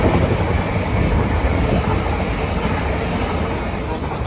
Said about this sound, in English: passing through now is another 345 to Maidenhead